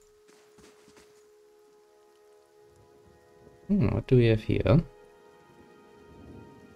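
Steady rain falls over a video game village as a soft continuous wash, with a low rumble of thunder, while a man murmurs briefly at the start and a louder burst of voiced game dialogue cuts in midway.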